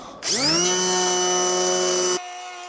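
An electric planer spins up with a rising whine, then holds a loud, steady high-pitched hum for about two seconds while shaping a steel packer for joists, before cutting off abruptly close by.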